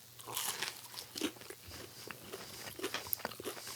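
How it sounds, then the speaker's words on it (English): Burger King all dressed chicken nuggets being eaten, with soft, close crunches and bites scattered irregularly over a quiet room background, no talking. "Sorry if our chewing is annoying the microphone."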